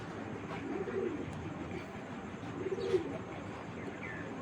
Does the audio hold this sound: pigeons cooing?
yes